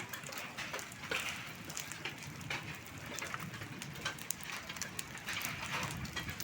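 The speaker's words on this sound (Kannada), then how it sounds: "ನೋಡಿ ಎಷ್ಟು ತಪ್ಪ ಆನ್ಕಲ್ ಬೀಳ್ತೈತೆ" Hailstones patter and tick irregularly against hard surfaces, a dense scatter of small sharp impacts with occasional louder knocks, steady throughout with no voices.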